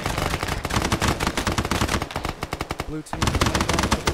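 Rapid automatic gunfire in a shooter video game with dinosaurs and zombies, loud dense bursts that pause briefly and then resume, while a voice calls out over the shooting.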